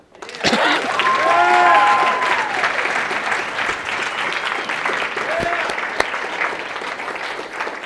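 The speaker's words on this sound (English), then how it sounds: "Oh, a little applause." A lecture audience breaks into sustained applause, broad and steady throughout, with a few faint voices rising over the clapping early on.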